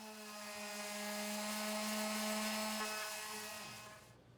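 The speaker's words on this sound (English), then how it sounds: "I'm using 80 grit sandpaper and an orbital or vibrating sander" An orbital sander with 80-grit sandpaper whirs steadily on outdoor wooden furniture with a high tonal hum, rising slightly in pitch then winding down at the end.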